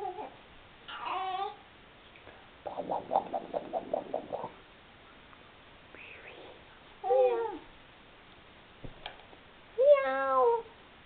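Several drawn-out cat meows, fairly close and moderately loud, separated by quiet gaps, with soft babbling-like vocal sounds in between in a quiet home setting.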